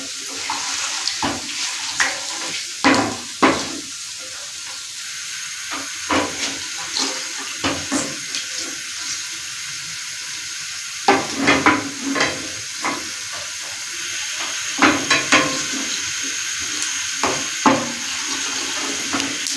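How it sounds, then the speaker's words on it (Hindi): Cumin seeds fry in hot oil for daal mash: a steady bright sizzle runs throughout, broken by irregular clinks and scrapes of stirring, close up, with no talking. "एक से 3 सेकंड तक हमने इसको ज़ीरे को बीच में फ्राई करना है।"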